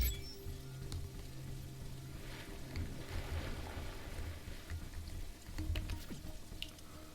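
Rain falls in the video game Riftbreaker, a steady soft wash of drips and patter with a low hum beneath, fairly even throughout with no voices.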